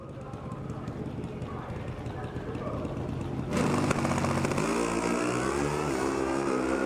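Pro Stock drag motorcycles racing down the strip at an NHRA event, engines roaring and rising in pitch as they pass, growing louder midway, under an announcer's voice.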